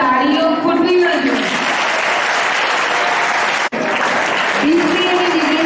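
An audience at a school alumni felicitation ceremony in Bharuch breaks into loud, sustained clapping from many hands, with a voice speaking just before and again as the applause fades.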